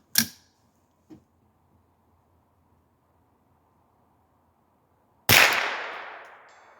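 Two sharp .22 Long Rifle rifle shots at an outdoor range firing at 200 yards, one near the start and a louder one later with a ringing tail, separated by a faint click in near silence.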